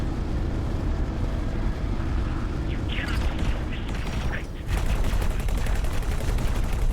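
Weapons firing during a space battle in X4: Foundations, a steady dense roar of fire with a few brighter zaps and pulses over a constant rumble.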